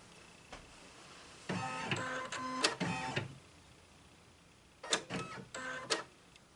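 An embroidery machine scans its hoop with quilting fabric in place, the motor whirring in stepped, rhythmic mechanical bursts, two longer runs separated by a quiet pause, close and fairly loud.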